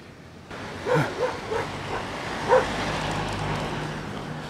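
Several puppies on a Thai beach give a few scattered yips and barks, fairly close, over steady wind and faint surf.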